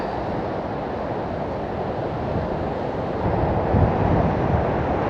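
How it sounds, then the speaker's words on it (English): Continuous low rumbling roar of sea waves, with wind buffeting the microphone, swelling slightly louder toward the end. "These waves look amazing."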